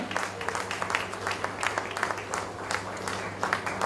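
A crowd applauding steadily, many hands clapping together in a dense, moderately loud burst that carries on throughout.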